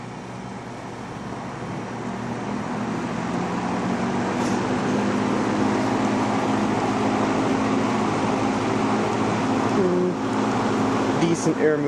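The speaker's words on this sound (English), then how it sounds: "The newer fans, you just don't get that same startup sound, and this one has always had a buzz." A vintage McGraw Edison Zero box fan runs with a steady, dense whirring hum and a constant electrical buzz, loud and close, holding level throughout with no pauses.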